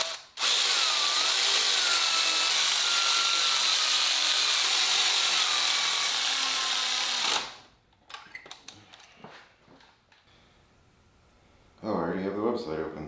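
Power tool driving spark plugs into a Honda S2000 engine: a steady, close mechanical whir runs for about seven seconds, stops abruptly, then gives way to clicks and handling noises and a short burst of talk at the end.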